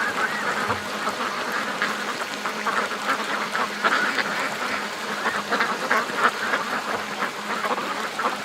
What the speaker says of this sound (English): Oh, the ducks are embracing the water here.